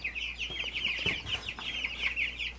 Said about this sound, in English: And I can't get over how big these meat birds already are, guys.